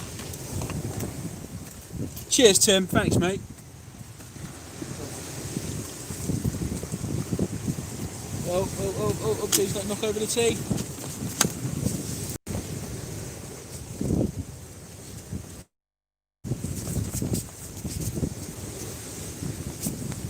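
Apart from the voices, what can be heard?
strong wind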